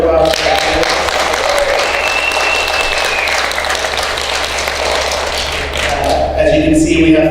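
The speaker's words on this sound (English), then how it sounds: "So big round of applause for that." Audience applause at a young Democrats candidate forum, sustained clapping from a room of people with voices and chatter mixed in over a low steady hum.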